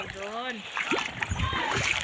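Splashing water in the San Vicente river in Bicol, Philippines, close and moderately loud with scattered sloshes, mixed with people talking and calling out nearby.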